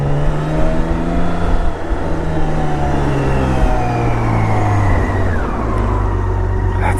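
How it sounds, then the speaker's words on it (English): The six-cylinder engine of a BMW K1600 GTL touring motorcycle pulls smoothly while riding, with a steady, close drone whose pitch climbs and then drops through gear changes, steady wind noise underneath and no voices. "That 6-cylinder, man, that's just a sound you never get tired of, ever."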